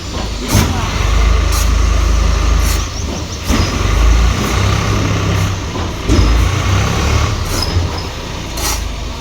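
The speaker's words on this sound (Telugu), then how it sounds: "రెండు ట్రక్కులు వచ్చిందండి ఇసుక" Trucks loaded with sand arrive, heavy diesel engines rumbling loud and close with sharp hisses of air brakes and squeaks recurring every few seconds, while voices talk faintly in the background.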